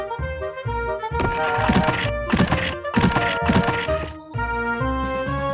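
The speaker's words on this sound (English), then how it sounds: "Start loading stones." Stones dropped into a toy truck's compartment, a series of hard wooden clacks and thunks in quick bursts over bright, tinkling background music.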